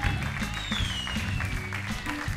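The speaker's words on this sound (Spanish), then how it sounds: "El aplauso fuerte para él" Loud applause from an audience fills the space steadily throughout, with a dense wash of clapping, a few scattered voices and a brief whistle-like tone mixed in.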